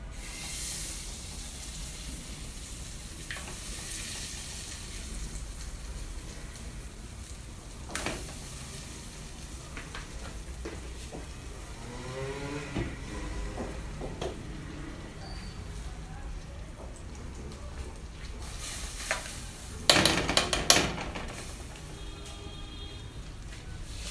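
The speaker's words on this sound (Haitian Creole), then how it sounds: "Chaudière chaud, qu'on a ajouté beurre là-dedans." Butter melting in a hot cooking pot, a faint steady hiss and sizzle throughout with a few brief clatters, heard mostly alone.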